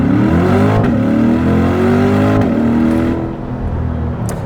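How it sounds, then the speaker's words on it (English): A C8 Corvette accelerates hard from first gear with traction control off, the engine roaring loud and close as it climbs through the revs, with a brief dip at each upshift. "Let's see if we lose any traction with traction control off going from first gear."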